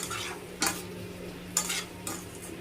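Potatoes with poppy seeds, green chili, salt, turmeric and chili powder cook in oil, a soft continuous sizzle broken by two or three sharp scraping stirs of a spatula in the pan.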